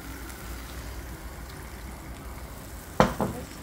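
Curry with added water is stirred in a pan for a Bengali plantain malai kofta, a faint, steady scraping and simmer that ends in a couple of sharp utensil knocks against the pan.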